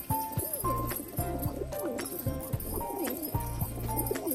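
Pigeons at a home loft coo repeatedly in low, rhythmic throaty phrases, close and clear, with several birds overlapping in a steady cycle.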